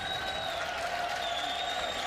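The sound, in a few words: baseball crowd applauding Christian Vasquez coming up to bat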